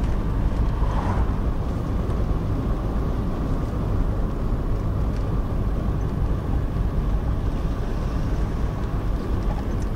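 A vehicle towing a load of firewood climbs a hill at about 1,500 RPM and 50 km/h, its steady low engine drone mixed with wind rumble throughout, no talking.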